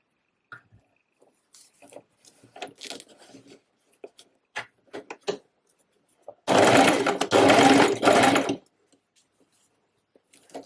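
Sewing machine stitching an elastic line into a pair of half-elastic-waist trousers: light fabric rustling and handling, then two close, loud bursts of rapid motor whirring lasting about two seconds.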